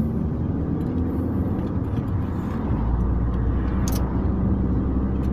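A car driving along the main road from Narva toward Sillamäe, with a steady, loud rumble of engine and tyre noise from inside the vehicle that continues throughout.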